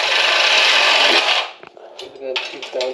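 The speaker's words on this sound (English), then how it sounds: "Peter, there's only one way of cutting using the Sawzall" A Sawzall reciprocating saw cuts steadily for about a second and a half, a loud dense rasp, then stops, leaving brief clunks and scraping handling noises.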